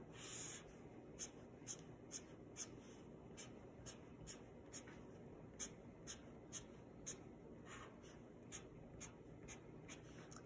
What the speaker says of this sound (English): So I'm going to draw a graph.